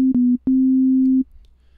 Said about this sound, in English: So at the moment its stock sound is a sine wave